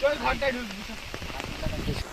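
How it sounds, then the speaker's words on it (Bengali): Steady rain patters in the background while people walking through it talk over it, the downpour continuous and moderately loud throughout. "বৃষ্টি তো বাড়তেই চললো বৃষ্টি ছাড়াবার কোনো নাম নেই"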